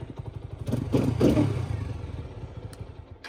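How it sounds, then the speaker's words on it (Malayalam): A TVS Apache RTR 200 motorcycle with stock engine and exhaust runs at idle with a low steady thrum, swelling briefly as if blipped, then settling back, heard fairly close. "അതാണ് വണ്ടിയുടെ സൗണ്ട് കേട്ടോ"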